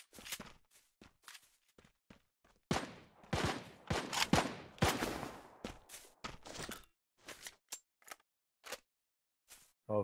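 Scattered gunshots and short bursts of fire in the mobile battle royale game Knives Out, irregular and fairly close, with quiet gaps between volleys and no voices.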